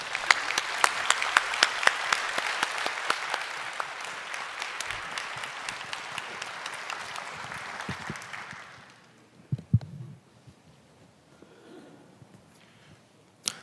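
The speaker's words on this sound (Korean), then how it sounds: "우리 나오실 때 박수로 맞이해 주시길 바랍니다" A church congregation in Korea claps to welcome a testimony speaker at a Thanksgiving service. The steady, fairly loud applause lasts about nine seconds, then fades out into near quiet with a few faint rustles and knocks.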